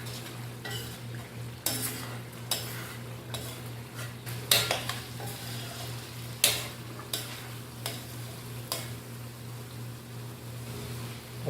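Shinwari karahi is stirred in a pan over a steady frying hum, with a spoon scraping and clinking against the metal in irregular strokes, close and clear.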